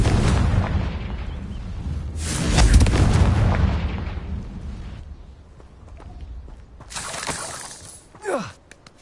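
Confringo explosive spell in the Hogwarts Legacy video game: booming blasts and crackling bursts rise and fade, followed by a sharp swooping magical zap near the end, with no talking.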